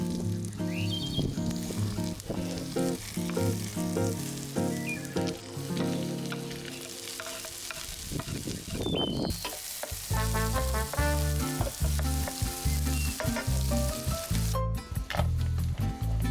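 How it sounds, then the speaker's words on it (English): Onion frying in a heated pan with butter, a steady close sizzle with occasional stirring sounds, continuous and fairly loud under background music. "Heat up a pan and start frying the onion."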